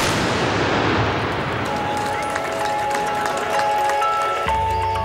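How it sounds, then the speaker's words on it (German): Black powder salute cannons of the Böllerschützen fire volleys at noon by the Bavaria statue to close Oktoberfest in Munich, loud dense booming and crackling blasts with a crowd murmuring beneath and a brass band faintly playing. "alljährlichen Salut der Böllerschützen mittags um 12 an der Bavaria"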